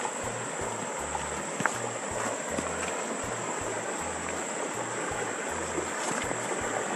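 River water near Tejutla, Chalatenango, rushing in a steady broadband hiss, with a rhythmic low thumping pattern underneath throughout.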